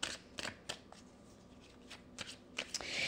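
Oracle cards being shuffled by hand, a run of crisp riffling flicks and taps at irregular intervals, close and fairly loud, with no talking over them.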